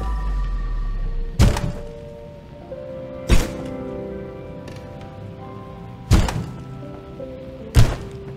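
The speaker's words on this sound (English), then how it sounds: "Need to empty the trash can first." Four heavy, well-spaced thuds from trash being emptied out of a trash can in the video game Crime Scene Cleaner, each a loud impact over a quiet hum.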